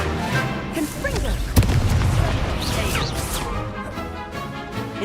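A Confringo spell explosion in Hogwarts Legacy combat, a single punchy boom amid ongoing spell effects and a voice casting, with dense layered game sounds throughout.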